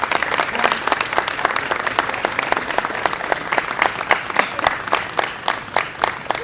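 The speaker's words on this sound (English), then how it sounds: "that deserves a round of applause" A crowd at an outdoor community celebration on a Brooklyn pier claps steadily, with individual sharp claps standing out over a dense, fairly loud wash of applause.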